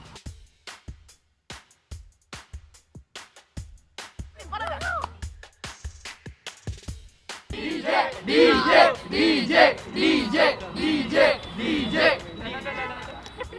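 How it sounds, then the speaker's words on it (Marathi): A crowd of young people at a Ganesh festival shouts and cheers in loud rhythmic bursts. Sharp claps or beats come first, then the voices swell and stay dense and close. "तर मुलांचा हा जल्लोष आहे, तरुणाईचा हा जल्लोष आहे"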